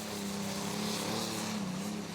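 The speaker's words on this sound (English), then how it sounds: "This tractor was once owned by the legendary puller Dave Chrisman." An Allis-Chalmers pulling tractor roars at a tractor pull, its engine a sustained loud drone with a slight rise and dip in pitch, heard without talk.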